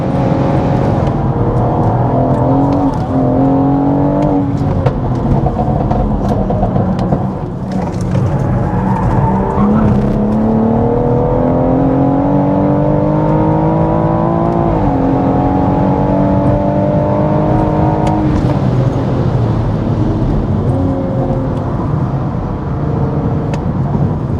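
A 500 BHP BMW M140i is driven flat out on a drying track. The loud engine climbs through the revs, drops on each upshift and builds again in repeated rising sweeps, close and unbroken.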